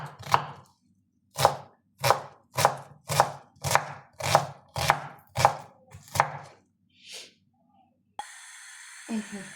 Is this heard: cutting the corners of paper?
no